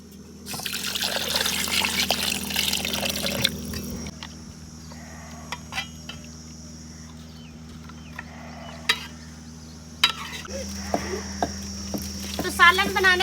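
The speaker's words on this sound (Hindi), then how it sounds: "तो अब बारी है पानी डालने की।" Water poured into a pot of meat curry cooking with rendered fat, a broadband splashing pour for a few seconds, then quieter trickles and small clinks over a steady low hum, with faint talk.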